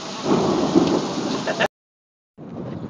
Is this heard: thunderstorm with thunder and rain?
yes